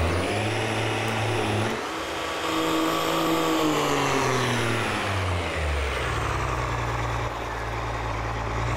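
Truck engine in Farming Simulator 22 droning steadily as it drives, with the pitch rising and falling through gear changes and load, loud and continuous throughout with no talk.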